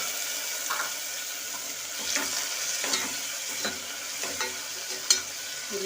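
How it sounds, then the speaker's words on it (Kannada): Fried onions and freshly added raw green gram hiss steadily in oil for a green gram sambar, with intermittent soft scrapes of stirring and one sharper clink near the end. "ಇವಾಗ ನೋಡಿ ಈರುಳ್ಳಿ ಎಲ್ಲ ಚೆನ್ನಾಗಿ ಫ್ರೈ ಆಗಿದೆ."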